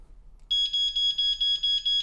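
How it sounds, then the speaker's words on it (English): An 85-decibel water flood alarm, triggered when its sensors touch water, sounds a loud, shrill electronic beep in rapid pulsing bursts that start abruptly and repeat evenly. "an 85 decibel alarm goes off"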